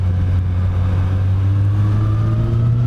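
Steady engine drone from a motorcycle being ridden on roads in the Picos de Europa, a loud continuous low hum with a slowly rising pitch and no speech over it.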